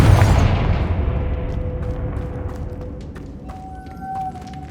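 The Confringo explosive spell from Hogwarts Legacy goes off as a single loud booming blast at the start, then a long rumbling decay that fades over several seconds, followed by faint clicks and a thin tone near the end.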